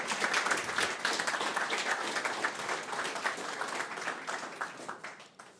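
A room full of people applauds continuously, dense and even, tapering slightly near the end.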